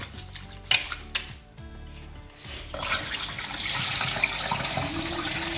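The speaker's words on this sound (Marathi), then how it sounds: "दोन पाण्याने भाजी धुवून घ्यायची" Wild leafy greens are washed in a vessel of water: metal pots and utensils clank a few times, then water splashes and sloshes steadily for several seconds, close by and moderately loud, with no talking.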